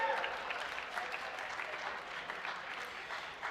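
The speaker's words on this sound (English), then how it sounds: "You don't have to clap for everyone, it's okay." Audience applause at a high school farewell assembly, a continuous crowd of clapping hands that holds steady and slightly distant, gently fading toward the end.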